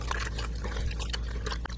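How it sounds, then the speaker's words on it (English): An air filter dropped into a container of filter-cleaning liquid, giving a brief wet splash and sloshing close by, over a low steady hum. "And throw our air filter in there."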